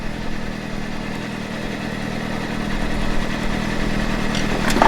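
A Honda CBR600RR motorcycle engine swapped into a custom cross kart runs steadily, a continuous mid-pitched idle that grows slightly louder toward the end.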